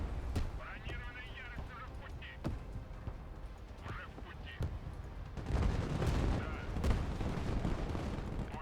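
Artillery and gunfire in the Broken Arrow war game: scattered sharp booms and shots crack through a continuous battle din, growing denser and louder in the second half, with voices talking intermittently over the fighting.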